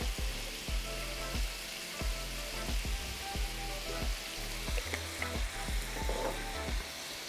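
Crumbled sausage sizzles steadily in a hot pan while a spatula breaks it up, with repeated scraping and tapping strokes close by.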